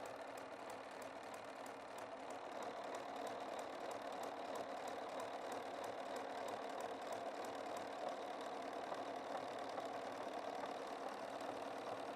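A Bernina 990 sewing machine runs steadily while sewing a satin stitch, giving a continuous mechanical hum with a fast, regular needle clatter. It stays close and even throughout, with no talking.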